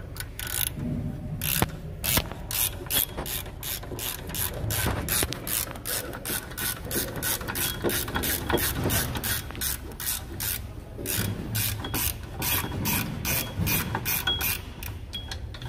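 Bolts being threaded in by hand ratchet on a 2009 Toyota Camry Hybrid rear wheel bearing, a steady run of rapid, close clicking pawl strokes lasting throughout with short pauses between bursts.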